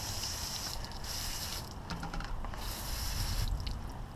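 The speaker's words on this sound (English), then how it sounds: "Take the hose again, rinse it all off." Water from a garden hose sprays steadily over a bicycle wheel during a bike wash, a continuous hissing rush with shifting splashes and a few faint clicks of the wheel, no talking.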